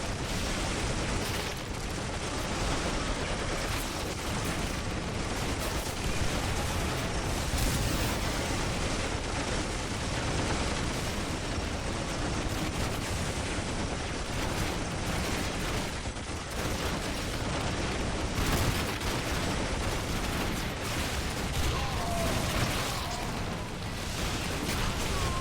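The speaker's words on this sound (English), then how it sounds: "These big field battles with explosions" Explosions and gunfire roar without pause through a massive Warhammer 40k mod field battle as an Ork army charges, a dense, loud, unbroken wall of blasts and shooting.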